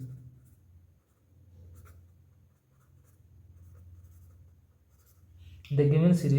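Faint scratching of writing on a board while a math series is worked out, under a low background hum, followed by a brief burst of speech at the end.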